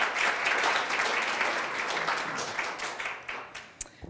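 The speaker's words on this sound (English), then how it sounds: "So a round of applause for Renee." Audience applause for Renee Hesselink at a community sustainability celebration, a full round of clapping that slowly fades, leaving a few scattered claps at the close.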